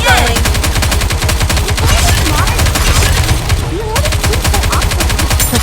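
Rapid automatic gunfire from the PC shooter NIKKE: Goddess of Victory, loud and continuous with dense bursts, some voice-like fragments over it.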